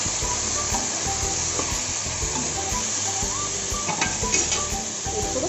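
Tempering with turmeric and brinjal sizzling in a hot pan while being stirred, a steady close frying hiss throughout with soft scraping and clinks of the spoon against the pan.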